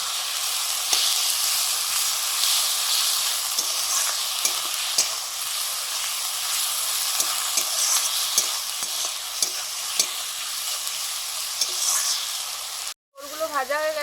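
Ground cumin and coriander paste fries in a hot pan with a steady close sizzle, punctuated by the scrape and clack of stirring, then cuts out briefly before a short tonal sound at the end.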